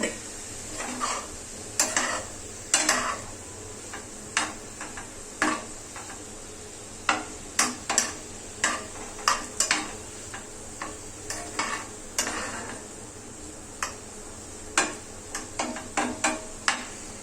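Cauliflower cooking in a pan for a mashed cauliflower dish, stirred with a utensil: repeated scraping clinks against the pan over a soft steady sizzle, close and irregular, no talk.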